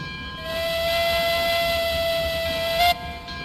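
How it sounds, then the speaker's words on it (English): A steam locomotive whistle in an online train video game gives one sustained, steady tone lasting nearly three seconds, loud and alone, then cuts off sharply. "It depends on how somebody opens the whistle, determines how the sound is."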